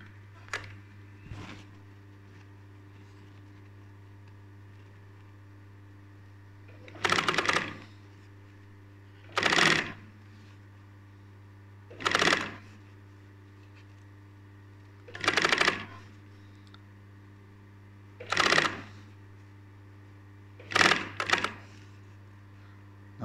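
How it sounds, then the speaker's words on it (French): A sewing machine runs in six short bursts of stitching, each about a second long, while sewing upholstery for a bar stool, with pauses between runs and a steady low hum throughout. "à chaque fois que j'utilise la machine, je mets un coup de cette huile au niveau de tous les orifices de la machine"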